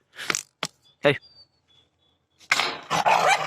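A pet dog at home gives a few sharp barks, then a short quiet gap, then a louder burst of rough barking or growling, all close by.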